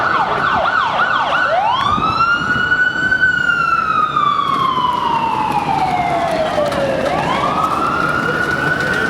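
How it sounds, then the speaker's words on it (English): Several city sirens wail at once in Los Angeles, one sweeping up and down in a whooping pattern, loud and continuous over a steady traffic rumble. "So yeah, the sirens, only in LA."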